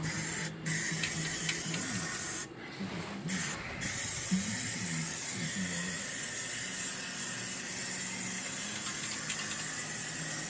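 Rust-proofing coating sprays onto the strut tower seams of a 1994 Chrysler Town & Country with a continuous close hiss. Brief pauses break it early on before it runs steadily.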